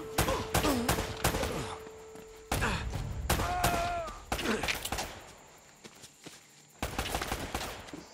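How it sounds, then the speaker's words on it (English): Enemy gunfire in Uncharted: Drake's Fortune comes as bursts of automatic shots and scattered single cracks, separated by short pauses and mixed with game effects and grunts from characters. "From where the hell are you shooting me at?"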